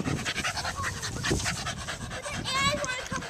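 Puppies panting in quick, steady breaths close by, with soft whimpers and household noise mixed in and a voice talking over part of it.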